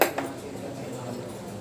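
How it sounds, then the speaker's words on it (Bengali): A metal kadai set down on a kitchen stove gives one brief clank at the start, followed by a low, steady background hum. "কড়াই বসিয়ে দিলাম।"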